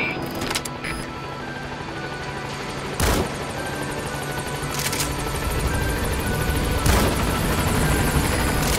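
A support helicopter approaches the landing zone in Metal Gear Solid V: The Phantom Pain, its rotor drone loud and sustained throughout, with a few sharp bursts cutting through near the start and middle.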